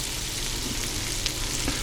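Steady, dense hiss of food sizzling in a pan, continuous and fairly loud throughout, with faint crackles and no voices.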